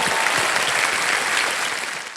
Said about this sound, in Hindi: एक बार जोरदार तालियां बज जाए